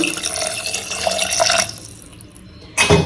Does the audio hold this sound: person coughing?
no